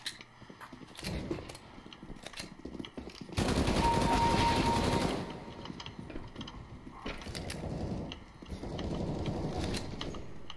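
Rapid bursts of gunfire from a video game shooting match against bots, with repeated volleys and a loud sustained stretch of firing in the middle, set against game ambience.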